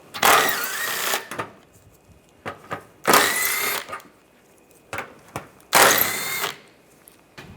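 A power tool with a 10mm socket spins three bolts out from underneath a 2010-2016 Cadillac SRX, three loud whirring bursts of about a second each, separated by quieter clicks and handling noises.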